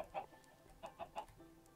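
Chickens in the video game Minecraft give several short clucks in a loose, uneven rhythm, faint and a little distant, with quiet gaps between them.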